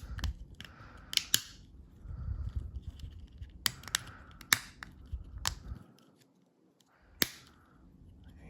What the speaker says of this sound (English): quite simply, just press it gently back together, hearing those clicks